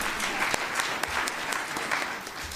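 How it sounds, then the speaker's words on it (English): Applause from a conference audience fills the room, a steady wash of many hands clapping close by, with a few sharper individual claps standing out, continuous for a couple of seconds without talk. "A round of applause if you agree."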